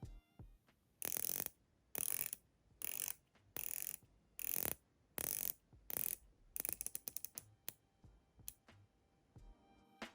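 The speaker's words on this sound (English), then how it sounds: "The bezel action is very satisfying." A ceramic 120-click unidirectional watch bezel is turned in a series of quick ratcheting bursts, each a close, crisp run of clicks with short pauses between them. Toward the end the bursts give way to single, sharper clicks.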